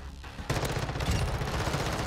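Rapid automatic pistol fire from an X13 Auto in Modern Warfare 2 multiplayer, loud and sustained after a brief quiet start, with dense overlapping shots and game noise.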